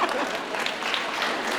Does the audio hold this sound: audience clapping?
yes